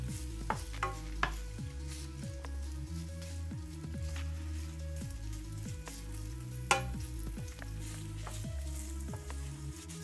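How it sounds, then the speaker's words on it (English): Bam-i noodles with meat stir-fried over raised heat in a hot pan, a steady sizzle broken by repeated scraping and tossing strokes, close and continuous with no voices. "bring up the heat a little, and then just continuously scatter it inside the pan"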